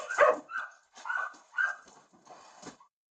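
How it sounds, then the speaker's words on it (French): Several dogs in a filthy house give a series of short barks and whimpering yips, five bursts spread over about three seconds, fairly close and moderately loud. "Encore des chiens. 3 chiens."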